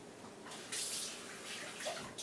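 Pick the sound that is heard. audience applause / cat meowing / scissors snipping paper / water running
water running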